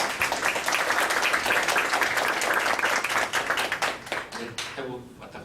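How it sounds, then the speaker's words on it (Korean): A seated audience at a 2020 architecture student award symposium in Korea breaks into loud, dense applause that tapers off near the end as a voice begins. "큰 박수로 하겠습니다."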